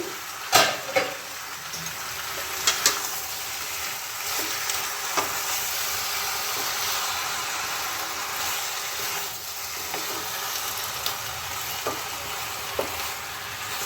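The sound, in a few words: stirring Malabar spinach with rohu fish head in pan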